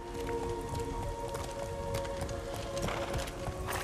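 Horse hooves clip-clop in the video game Castlevania Lords of Shadow, a steady patter of soft steps beneath sustained musical tones, with no voices.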